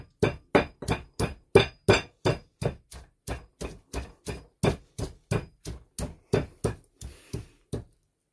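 Chillies with rock salt pounded in a pestle and mortar, a steady run of about twenty sharp, evenly spaced knocks close by, with no talking.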